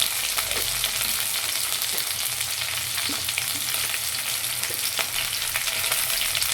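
Green chillies, curry leaves and mustard seeds fry in hot oil with a dense, even hiss and sizzle, scattered crackles and light stirring scrapes, close up and continuous.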